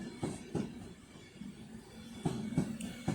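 Alstom Pendolino train approaching around a curve at Crewe station on the West Coast Main Line, a low distant rumble with a few faint rhythmic clicks of wheels over rail joints.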